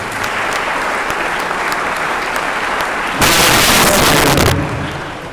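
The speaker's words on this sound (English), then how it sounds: "Let's give it a round of applause." An audience at a commemorative lecture applauds in a dense, steady wash of clapping, swelling louder for a second or so near the end before easing off.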